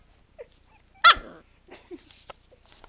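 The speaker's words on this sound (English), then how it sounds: "Bradley, are you a bad puppy dog?" A puppy gives one sharp close bark followed by a few soft whimpers and snuffles in an otherwise quiet room.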